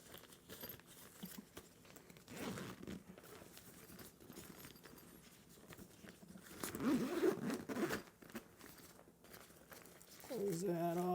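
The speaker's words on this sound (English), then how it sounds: "Zip this back up." The zipper on a film changing bag is drawn closed in several scratchy pulls of varying length, close up and fairly soft, amid handling rustles and a faint voice.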